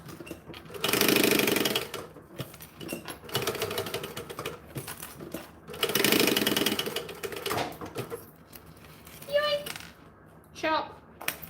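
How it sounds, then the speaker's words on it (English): A sewing machine chain stitches a bag in bursts of rapid mechanical whirring, broken by pauses and clatter, with a voice and other people speaking between runs. "Let's chain stitch this."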